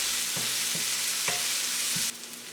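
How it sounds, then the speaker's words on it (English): Onion, bell peppers, carrot and jalapeno stir-fry in a hot pan with a steady close sizzle, broken by a few soft scrapes and knocks of the spatula tossing the vegetables. "Stir frying for another 2 minutes before we add the cabbage and spring onion"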